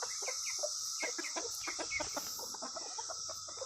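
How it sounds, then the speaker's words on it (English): A large flock of about a hundred farm chickens, roosters and bantam roosters among them, clucks in quick overlapping bursts over a steady background hiss, close and busy, with no one speaking. "I'm out here with a whole bunch of chickens."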